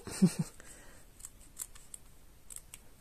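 Sharp scissors cutting jersey fabric bias binding close to the edge, a few crisp close snips spaced over a few seconds, no talking.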